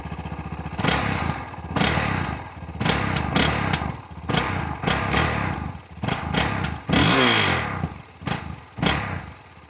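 Suzuki DRZ 400 SM single-cylinder motorcycle with its stock exhaust revs in repeated sharp bursts, each throttle blip rising and falling back to a lumpy idle, close and fairly loud.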